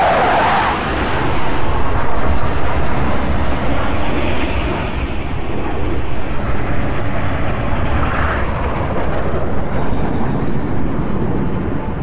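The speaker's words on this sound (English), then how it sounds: "Noble team, longswords are inbound and ready to push." Longsword fighter aircraft flying in during a Halo Reach battle, a loud, steady jet roar that swells and sustains with a broad rushing drone, with no talk over it.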